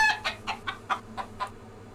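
Chicken clucking in the Disney Magic Artist Studio video game, a steady run of about seven short, evenly spaced clucks, fairly close and clear with no talk over them.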